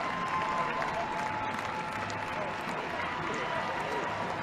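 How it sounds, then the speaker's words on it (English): A stadium crowd at a Women's Super League football match between Chelsea and Manchester United applauds and cheers steadily, a dense, distant wash of clapping that holds for the whole stretch. "there'll be arguably the biggest cheer for Ji So-yeon, who goes out a champion with Chelsea"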